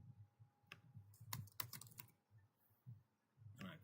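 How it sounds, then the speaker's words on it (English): Computer keyboard keys tapped in short irregular bursts, close and fairly quiet, with scattered single clicks and pauses between clusters and no talking. "If I type in here"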